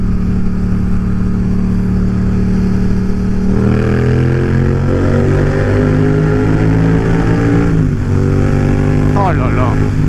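A Yamaha MT-07 motorcycle with an Akrapovic exhaust drones loudly and steadily, then revs up with rising pitch, its exhaust echoing as it passes through a short tunnel, with a sharp blip near the end.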